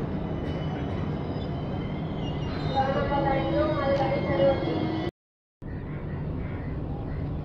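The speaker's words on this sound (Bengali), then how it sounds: "এখানে এসে পৌঁছালো পুরী আনন্দ বিহার টার্মিনাল এক্সপ্রেস" The Puri Anand Vihar Terminal Express rolls into a station, a broad steady rumble with a rising metallic whine of wheels and brakes, then a brief dropout before the hum of the platform returns.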